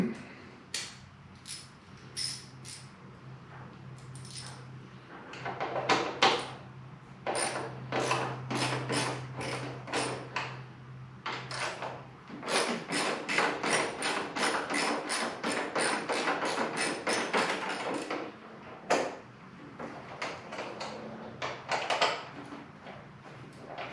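A Torx 25 bit turns screws out of a BMW GS motorcycle panel, giving a dense run of close, sharp clicks and taps with a faint low hum underneath.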